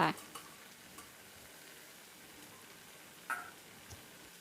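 Vegetables are stirred into a Thai mixed vegetable curry with grilled chicken. A faint, steady simmer runs underneath, broken by a few soft scrapes and clacks of the utensil against the pot.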